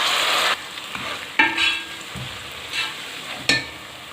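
Ginger garlic paste hitting browned onions in a hot pan gives a steady sizzle and frying hiss, broken by a few sharp stirring scrapes and clatters of a spoon against the pot.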